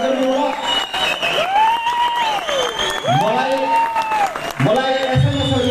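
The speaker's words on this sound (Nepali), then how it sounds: "जोरदार तालीले स्वागत गर्नुहोला" An audience at a political gathering claps loudly and steadily to welcome Gagan Kumar Thapa, sustained applause beneath an amplified voice speaking over it.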